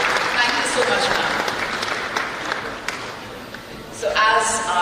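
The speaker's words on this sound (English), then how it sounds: "we can accompany this with more applause this side" An audience at an investment event in Goa claps in a moderate, continuous patter while a voice talks over it.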